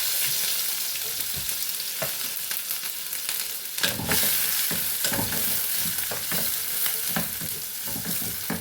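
Onions and green chillies frying in a pan for a paneer curry, a soft continuous sizzle with occasional stirring clicks and scrapes, fairly quiet and with no voices.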